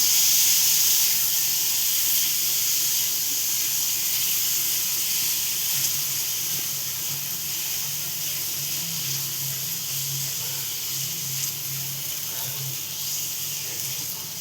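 Clams sizzle steadily in a hot pan over low gas, a constant bright hiss that softens slightly over time, with a faint voice beneath.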